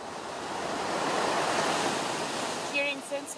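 Ocean surf rolling onto a warm tropical beach on São Tomé, a steady broad wash of breaking waves swelling and fading, with a voice briefly starting at the end.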